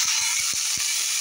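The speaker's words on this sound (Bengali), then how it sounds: "এগুলো ভাজা হয়ে গেছে, আমি এবার সবজিগুলো সব দিয়ে দেবো।" Vegetables go into a pan of oil with panch phoron and chopped onion for a Bengali fish-egg and shrimp curry, giving a continuous bright sizzle with faint low thumps beneath, close and steady, without speech.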